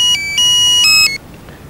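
A mobile phone rings with a loud electronic ringtone of sustained stepped tones in short phrases, close and clear, cutting off abruptly before a quieter tail.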